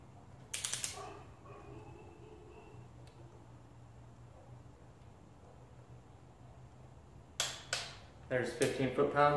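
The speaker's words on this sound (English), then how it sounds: "Then once you have everything snug, then you can start actually torquing them down." A torque wrench set to 15 foot-pounds tightening the intake manifold bolts of a 1982-92 Chevrolet Camaro, with a quick ratcheting burst early, a quiet pause, then a louder series of ratchet clicks ending in the wrench's click, close up.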